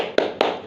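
A primary school class claps along in a rhythmic 'tepuk semangat' chant, giving two sharp, loud, evenly spaced claps, followed by the start of a third.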